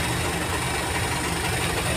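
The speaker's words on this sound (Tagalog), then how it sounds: "May motor." A motorcycle engine runs at a steady, continuous drone, close and fairly loud, with no voices over it.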